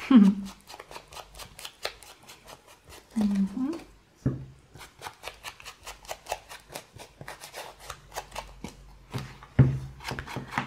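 Ink being rubbed onto a junk journal page made from packaging: a quick, repeated rhythm of dry, scratchy rubbing strokes, close by, with someone talking over parts of it.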